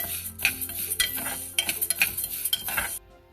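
Dal dry roasts in a pan, with a spoon scraping and stirring in repeated strokes, rustling grains and clinking against the metal, close and steady, then stopping abruptly.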